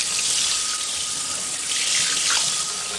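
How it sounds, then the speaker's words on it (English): Water from a spray head rinsing a telescope mirror in a sink: a steady, close, hissing spray that runs continuously without pause, with no voices. "So we're just going to gently hose our mirror"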